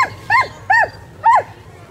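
Sled dogs at the Fur Rondy sled dog race in Alaska give three close, distinct barks that have a whining, yelping quality, spaced about half a second apart over a low background rumble.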